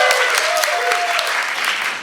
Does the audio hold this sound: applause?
yes